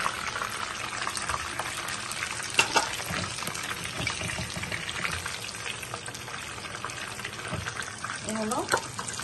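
Crispy chicken frying in hot oil, a steady close sizzle and crackle as the pieces are lifted out one by one, with a couple of clinks and light scraping, and brief talk in Bengali.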